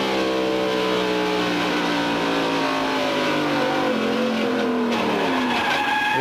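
A NASCAR stock car spins out at Richmond in the 1996 Pontiac Excitement 400, with tires skidding and the engine droning through a long sliding squeal that sweeps lower, loud and close, with no voices.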